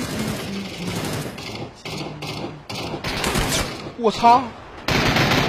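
Video game machine gun fire rattles in loud, rapid bursts with brief gaps, while a player shouts and talks over the shooting.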